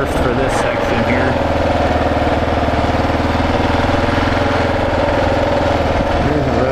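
A Kawasaki KLR 650 single-cylinder motorcycle on 80/20 street tires dropped into first gear through deep sand on a dirt track, engine droning steadily and loud throughout with a constant low throb.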